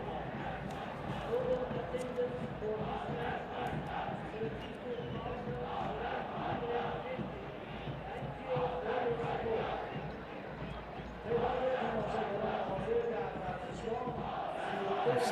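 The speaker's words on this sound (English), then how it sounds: "It's another big crowd." A big football crowd of around 32,500 at an AFC Champions League Elite match, Tractor FC against Al Shorta, roars and chants steadily throughout, with swells of louder noise near the end.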